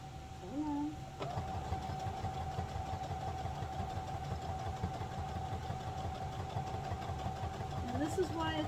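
A sewing machine runs steadily through layered quilt sections, giving a close, continuous whir with rapid, even stitching pulses and a thin mechanical whine that lasts almost the whole stretch.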